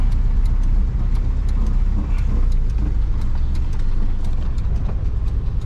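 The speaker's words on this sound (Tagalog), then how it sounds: "Katok. Pakinggan mo makina. Katok." Car engine with a knocking fault, idling steadily up close with a dense low rumble and faint repeated taps running through the whole stretch, no talk over it.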